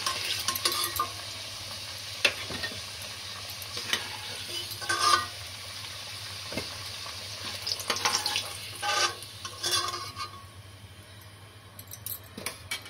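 Potatoes fry in hot oil in a pan, browned for a Bengali mutton kosha, giving a steady close sizzle broken by intermittent stirring and scraping clatters.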